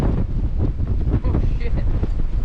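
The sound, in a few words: strong wind during a blizzard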